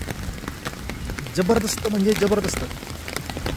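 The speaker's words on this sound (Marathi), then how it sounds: "जबरदस्त पाऊस पडत आहे मंडळी" Heavy rain falls in a steady wash throughout, with a voice speaking briefly over the downpour near the middle.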